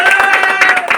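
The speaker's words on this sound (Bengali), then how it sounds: "সবাই হাততালি দেই" Crowd applause at a pigeon club tournament prize ceremony, a brief burst of many hands clapping close and loud, mixed with scattered voices.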